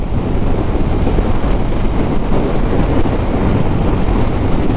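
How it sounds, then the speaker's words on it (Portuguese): Loud, continuous wind blasting against a microphone on a motorcycle in motion, a heavy low roar with constant buffeting and no talking heard over it. "O vento chega, ó. Chega a jogar a moto pro canto."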